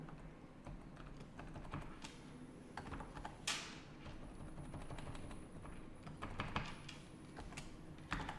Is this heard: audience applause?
no